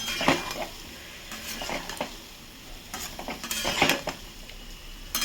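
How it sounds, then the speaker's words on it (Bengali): Masala sautéed with a little water in a pan for a vegetarian cauliflower, potato and paneer dish, with a soft sizzle beneath repeated scraping strokes of a spoon against the pan, close by, with no voices. "সামান্য একটু জল দিয়ে দিলাম, দিয়ে এটাকে কষবো, কষতেই থাকবো।"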